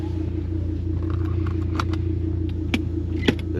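Lamborghini Gallardo V10 with a straight pipe exhaust running at low speed, a steady deep engine rumble close by with a few light clicks and knocks on top.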